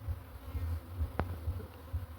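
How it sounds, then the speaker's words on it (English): Honey bees buzzing around a clay pot hive on a farm, a low droning hum that swells and fades as individual bees pass near, with a sharp click partway through; faint, no talking. "So those are the bees. Those are the bees."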